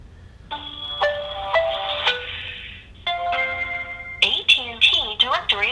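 A cell phone on the AT&T network rings out while placing a call in a basement, with a repeating electronic ringback tone in bursts, followed by a series of quick chirping tones, close and clear.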